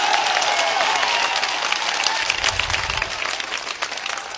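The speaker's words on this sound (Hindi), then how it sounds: "उठकर जोरदार ताली बजाए अपने चेयरमैन साहब के लिए।" A sustained burst of loud, dense applause from a seated audience cheering for their chairman at a Hindi-language gathering, steady throughout with a faint tone underneath.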